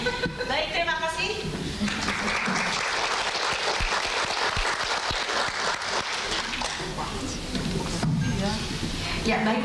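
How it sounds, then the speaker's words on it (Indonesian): An audience bursts into sustained, dense applause for a woman named Atiko, steady clapping filling the whole stretch while a voice talks over it at start and end. "Tepuk tangan sekali lagi untuk Mbak Atiko."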